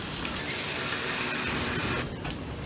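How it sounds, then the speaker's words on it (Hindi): About a quarter cup of water poured into a pan of Amritsari paneer bhurji masala, a brief splashing gush close by that cuts off near the end. "इसमें थोड़ा पानी ऐड करेंगे, तकरीबन 1/4 कप।"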